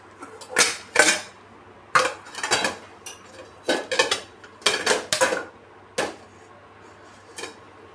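Sharp, irregular knocks of a metal vessel being tapped to release a freshly steamed Kerala kalathappam made from rice flour, arriving in close, clattering bursts with brief pauses between them.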